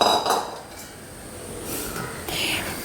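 A spoon stirs roasted rice into boiling water in a cooking pot, making a few faint metallic scrapes and clinks against the pot, close by and quiet.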